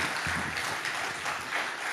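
A church congregation at a prayer-mountain service claps warmly to welcome the pastor, a thick continuous wash of applause filling the whole short stretch.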